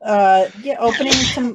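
A person speaks a few words, then lets out one short, sharp sneeze near the microphone during a tabletop role-playing game session.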